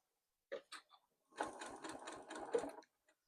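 A sewing machine stitches a mitered corner on a quilt, starting with a few short, quiet stitch bursts, then a steady run of rapid stitching for about a second and a half, close and alone.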